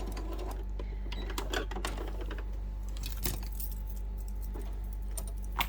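A sewing machine stitches a fabric bookmark in short runs, including a few back stitches, with rapid mechanical ticking and clicks over a steady low motor hum, close by and without speech.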